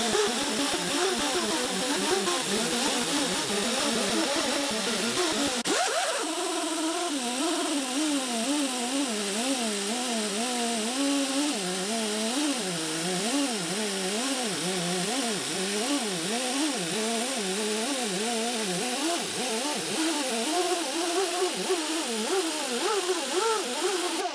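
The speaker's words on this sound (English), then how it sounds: "Okay, so let's buff this out." A Gibson Custom Shop guitar finish being buffed on a powered buffing wheel, a loud continuous whirring drone with wavering pitch that shifts as the workpiece is pressed against it, running alone throughout.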